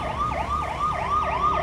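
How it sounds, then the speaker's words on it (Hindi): Vehicle sirens wail through a market in Jammu to announce a coronavirus curfew, a loud, repeating rising-and-falling siren sweep cycling steadily about every third of a second with road noise underneath and no talk. "दूसरी तरफ गाड़ियाँ जो हैं पूरे बाज़ार में हर ओर सायरन करके कर्फ्यू का ऐलान यहाँ पर होता हुआ"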